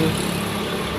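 Suzuki Explorer engine running through a homemade DIY silencer on its exhaust, a steady loud low rumble with a rough, even tone.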